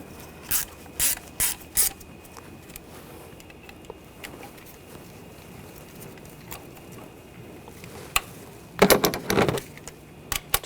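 A ratchet tightens ignition coil bolts on a Buick Encore in short bursts of clicking. There are a few quick ratchet runs early on, a quiet stretch, then a louder cluster of clicks near the end, all close with no talking.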